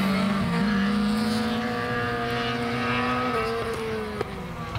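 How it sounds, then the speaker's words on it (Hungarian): Lada rally car engine heard close and loud as a sustained droning tone that shifts pitch as the throttle changes, with the note easing off near the end and a single sharp pop. "amikor elengedi a gázt, akkor mint egy erőtös durrog"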